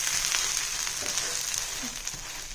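A soya bean dosa sizzles steadily in a pan over a medium flame. The frying hiss is continuous and close, with faint crackles, and no talk is heard.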